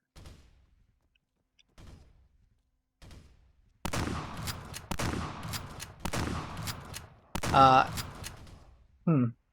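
Shots from the Dominator shotgun in Arma 3. Four faint, spaced reports are followed by a cluster of louder blasts with a trailing echo after each. The shots are heavy and booming, each one distinct, ending with a brief ringing tone.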